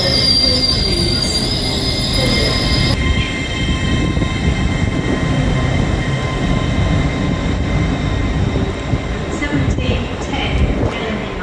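A train at a Doncaster station platform, loud and close, with continuous rumbling and high metallic wheel squeal that fades after a few seconds, steady engine and rail noise running throughout.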